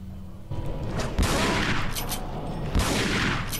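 Rapid gunshots aimed at a monster's tentacles in Resident Evil 4 Separate Ways, a dense, loud fusillade with heavy booming impacts and no talk.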